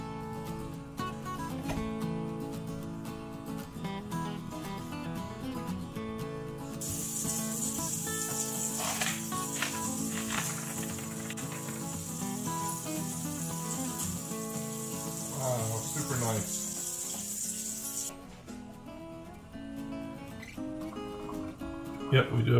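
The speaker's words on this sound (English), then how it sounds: "We're gonna go ahead and rinse these rocks off" Water rinses over tumbled lapis lazuli rocks with pyrite inclusions, giving a bright rushing hiss that runs for several seconds under a background of music and low talk.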